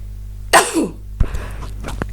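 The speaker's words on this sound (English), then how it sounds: "I'm going to sneeze, excuse me." A single sharp sneeze bursts out close by, followed by a short sniff and faint rustling in a quiet room.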